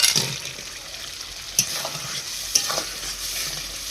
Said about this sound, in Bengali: এবার আমি লবণ হলুদ মাখানো কাঁকড়াগুলো এর মধ্যে দিয়ে অনেকক্ষণ ধরে কষাবো